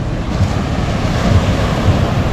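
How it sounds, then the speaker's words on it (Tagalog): Strong ocean waves break continuously on a beach after recent rain, a loud, steady rushing surf mixed with gusty wind buffeting the microphone, with no voices. "Lakas ng alon."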